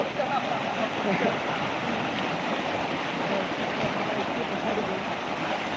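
Water flowing steadily on a farm, a broad continuous rush like a stream or channel, fairly close and even throughout, with faint background voices.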